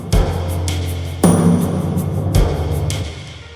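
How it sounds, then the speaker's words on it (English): Snare hits processed to sound muffled and watery land at a steady interval within a looping beat, three strikes in all. "how to create that underwater snare effect"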